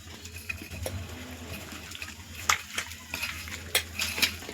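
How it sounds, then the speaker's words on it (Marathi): Spices being mixed into raw chicken by hand, onion-garlic masala and salt included: soft squelching, sticky rubbing and occasional light clinks of a bowl, close and fairly quiet, with no talk. "आता आपण हे सगळे मसाले हाताने एकजीव करणार आहे"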